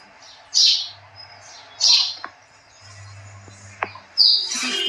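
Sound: house sparrow chirping

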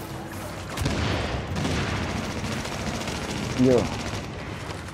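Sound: gunfire and grenade explosion in video game The Division

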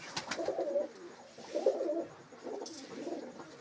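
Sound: pigeons cooing

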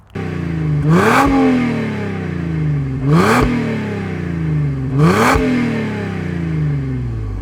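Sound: car engine revving through AMG exhaust

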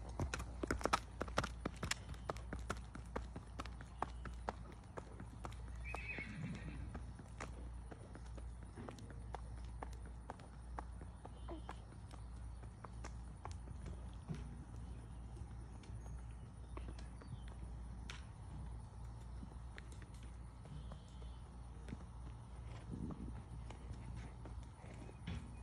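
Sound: thoroughbred mare walking and neighing

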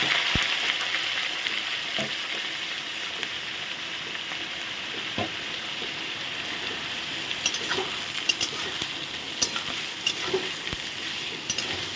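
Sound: cashews, beans and capsicum frying in hot oil

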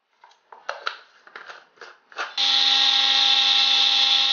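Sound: kitchen grinder grinding roasted flaxseed with salt

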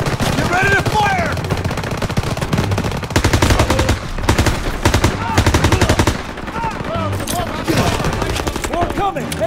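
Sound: gunfire in the video game Call of Duty WW2

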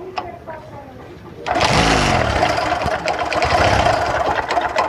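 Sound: Bajaj Discover motorcycle engine starting and idling

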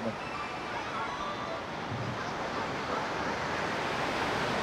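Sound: sea waves washing onto sand, with wind

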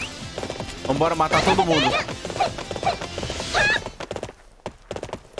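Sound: horse galloping in a video game, Warriors Orochi 3

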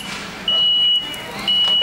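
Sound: reversing beeps at Home Depot

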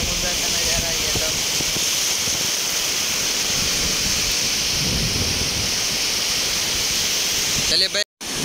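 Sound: sea waves at Porbandar shore, Gujarat

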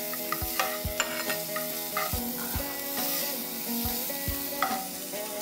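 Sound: cumin, ginger and garlic frying in oil for gravy

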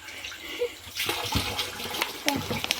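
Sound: filling water from tap

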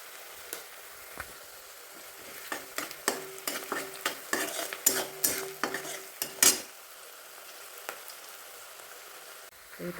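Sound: onion frying with salt in a pan for dal tadka

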